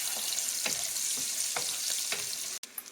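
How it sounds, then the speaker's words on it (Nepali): Garlic fries in oil left over from cooking meat, a steady close sizzle with a few soft stirring scrapes and a sharp knock near the end. "म लसुन अदुवा भुट्दैछु"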